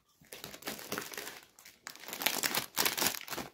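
Crinkling and crumpling of a foil snack bag of Lulu cheese-flavoured chips being torn open, in two bursts of crackling, close and fairly loud, with no talk.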